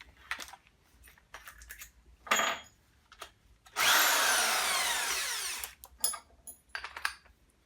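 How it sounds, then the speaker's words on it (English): A drill with a 1/2 inch bit bores into the metal drum of an LG direct drive washing machine tub, a loud continuous grinding whine of about two seconds, framed by shorter clunks and handling knocks. "Let's go all the way up to a 1/2 inch bit and see if we can get it into the drill."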